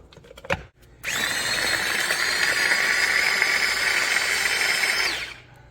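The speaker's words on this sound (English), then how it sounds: "I'm gonna put it in my little food chopper right here" A small electric food chopper grating onion whirs steadily for about four seconds at a high, even pitch after a few brief clicks, then winds down.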